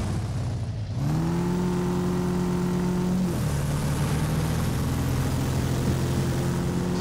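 A heavy fire truck's engine in Farming Simulator revs steadily and loudly, its pitch climbing, then dropping to a lower sustained drone partway through, with no talking.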